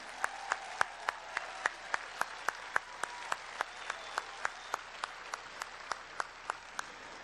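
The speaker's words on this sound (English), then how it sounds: "Let's have a round of applause for all of those volunteers" Faint rhythmic applause for volunteers, with evenly spaced sharp claps repeating steadily over a soft background hiss.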